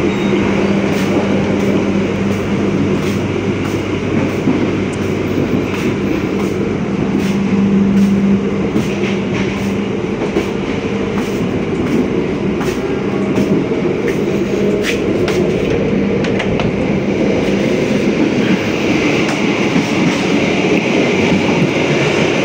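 Steady rumble of an economy-class passenger train running on rails between Malang and Bandung, Indonesia, heard from inside, with a continuous roar and occasional clicks and rattles throughout.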